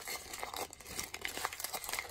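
Paper being crumpled for a sweet-potato origami fold, a steady close crinkling and rustling over about two seconds with no talk.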